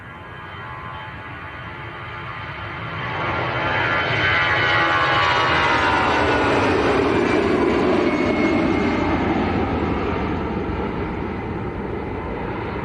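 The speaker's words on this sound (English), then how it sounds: "Next departure already rolling. Aer Lingus to Dublin," An Aer Lingus Airbus A320 rolls for takeoff toward Dublin, a broad steady jet roar that swells after a few seconds and holds loud and sustained, with a slight easing near the end and no voices.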